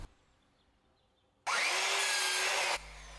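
Wooden trim pieces are cut to length in a workshop. After a quiet stretch, one loud, harsh cut roars for just over a second, then stops abruptly.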